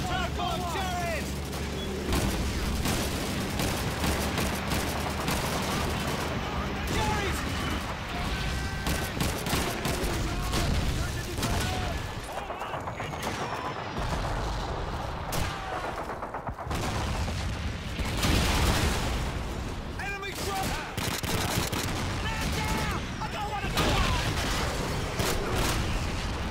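German MG-42 machine gun fire in Call of Duty 2, a World War II battle scene: sustained, dense bursts of automatic gunfire with other shots and booms layered throughout, loud and continuous.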